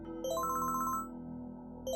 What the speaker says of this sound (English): Someone's phone ringing?